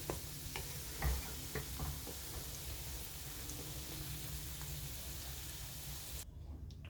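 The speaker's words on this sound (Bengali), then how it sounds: "এইভাবে প্রত্যেকটাকে উল্টে দেব দিলে উল্টো দিকটা মানে অপোজিট সাইডটাও ভাজা হয়ে যাবে" Lentil fritters (dal bora) fry in hot oil in a pan with a steady crackling sizzle, while scattered light ticks and taps come as the pieces are flipped one by one. The sizzle cuts off abruptly near the end.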